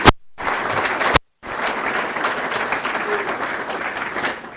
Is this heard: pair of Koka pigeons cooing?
no